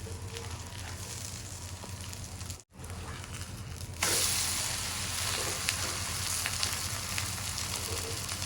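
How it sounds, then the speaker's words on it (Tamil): Onion fries with a steady sizzle in oil in a pan while a samai millet adai is being made. Partway through there is a brief break, then the frying gets louder and brighter after a flip, with no one talking. "கொஞ்சம் வெங்காயம் திருப்பி போட்டுக்கிறோம்."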